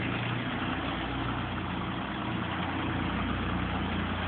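A Fordson Dexta tractor engine runs steadily near the microphone, a constant low, rumbling drone with no pauses, somewhat muffled in tone.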